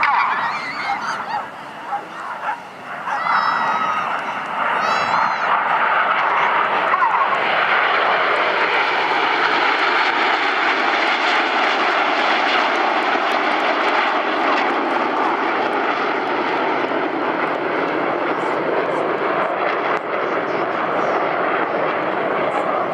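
Red Arrows jets roar overhead at an airshow in Swansea while the formation performs rolls, a loud continuous engine rush that swells and holds for a long stretch at moderate distance.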